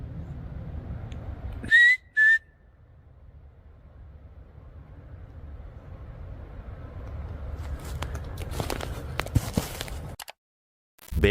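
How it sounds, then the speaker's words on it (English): In a dark forest at night, two brief, clear whistles ring out close together, followed by quiet woodland ambience and then rustling, crunching movement nearby. "Is that a whistle?"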